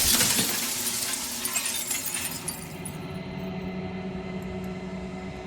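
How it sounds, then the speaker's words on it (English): A mirror cracks down its center and the glass splits in Slay the Princess: a bright shattering burst at the start, then ringing, tinkling fragments fading into a low, humming drone. "A crack slides down the center of the mirror, splitting the image in the glass in two."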